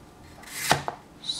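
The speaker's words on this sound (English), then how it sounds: "Now I cut this." A knife cuts through vegetables on a board, giving one quick crisp chop followed by a softer second cut, close and fairly quiet.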